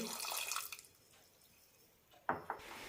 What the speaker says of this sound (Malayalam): അരക്കപ്പ് വെള്ളം കൂടി ഒഴിക്കാം